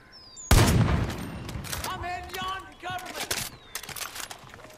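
Gunfire in the shooter Far Cry 5: a loud opening blast, then a rapid string of shots and booms with ringing, metallic tones between them, rattling on through the whole stretch.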